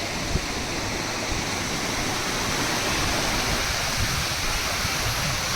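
Water pouring out of a large lake at Kodaikanal, a broad steady rushing roar like a waterfall or stream, continuous and even at moderate distance, with no speech.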